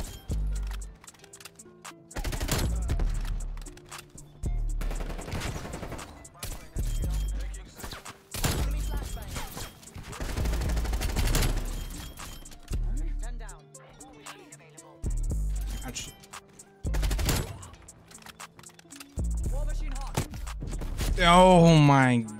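Groza assault rifle fire in Call of Duty Cold War multiplayer on domination, with repeated bursts of rapid automatic shots separated by short pauses, loud and close, while a player talks over the action.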